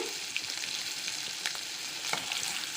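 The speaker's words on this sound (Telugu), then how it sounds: "ఆవాలు చిట్పట్లు అన్నాయి పచ్చిమిర్చి వేస్తాను మూడు కాయలు కట్ చేసుకున్నా అండి కరివేపాకు వేసానండి" Mustard seeds, slit green chillies and curry leaves sizzle in hot oil for a drumstick masala curry, a steady close crackle with a few sharper pops and no talk.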